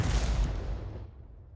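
A German leFH18B2 artillery gun fires in World of Tanks with a single heavy, close boom that trails off into a long rumbling decay, heard alone without talking.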